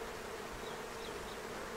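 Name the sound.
honeybees buzzing in an opened beehive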